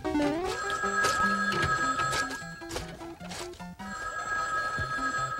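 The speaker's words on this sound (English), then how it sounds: "Why does the phone always ring when I'm busy?" A telephone bell rings repeatedly over a bouncy cartoon music background, bright metallic trills recurring in short bursts, no talking.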